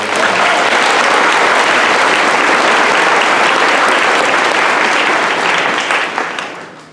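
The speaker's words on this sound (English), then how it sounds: "Would you please give them a round of applause" A large audience at a school graduation ceremony breaks into loud, dense applause that holds strong for several seconds and then starts to fade at the end.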